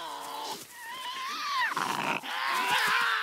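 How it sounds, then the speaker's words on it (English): A Tasmanian devil growls in rising, harsh voiced bursts that build into a rasping snarl, loud and close with no talk over it. "As the situation escalates, growling begins."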